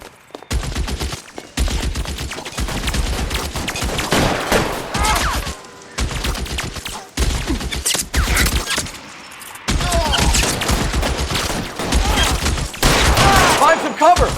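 A shootout in L.A. Noire, with loud bursts of rapid gunfire in repeated volleys separated by short pauses, with occasional shouted voices.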